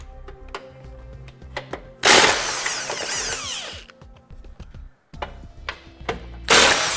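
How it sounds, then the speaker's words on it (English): Impact gun or power tool with an 18mm socket removing tow hook bolts from a 2013 Infiniti JX35 during a trailer hitch install, two loud bursts of whirring rattle between quieter clicks and clanks, close up. "We're going to use an 18mm socket. You need to take out the 2 bolts located here"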